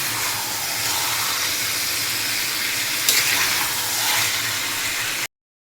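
Chicken kosha curry with coriander, cumin, chili and turmeric bubbling in a pan, a steady broadband sizzle and simmer heard up close, holding fairly even for about five seconds before cutting off.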